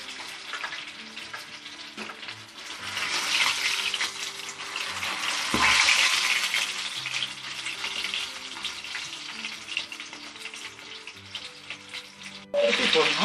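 Quail pieces fry in plenty of oil on low heat, giving a continuous crackling sizzle that rises and falls gently, with occasional stirring clatters and a sharper burst near the end.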